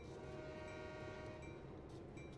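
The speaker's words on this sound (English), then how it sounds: "Go blast the horn as I approach." A diesel switcher locomotive in Train Sim World 3 sounds a loud, sustained horn chord while approaching at low speed, the blast held steadily over the engine rumble with no voices heard.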